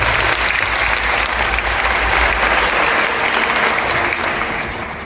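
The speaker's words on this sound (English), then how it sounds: "Another round of applause for Freddie Grafton." Theater audience at the Tennessee Theater giving a loud, dense round of applause, steady and close throughout before tapering slightly at the end.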